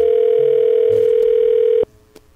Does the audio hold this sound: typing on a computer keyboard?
no